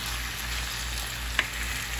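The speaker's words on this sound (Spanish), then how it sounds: "Ahí voy a sofreír el tomate" Tomato and onion fry in a pan with a steady, soft, even sizzle close by and a single small tick partway through.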